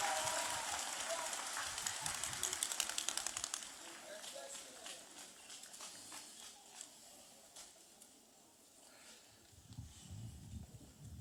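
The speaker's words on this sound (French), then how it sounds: "Acclamez puissamment pour le Seigneur." Church congregation in Mampong, Ghana applauding and cheering, a loud dense wash of clapping and voices at the start that thins out and fades over several seconds, ending in scattered quieter noise.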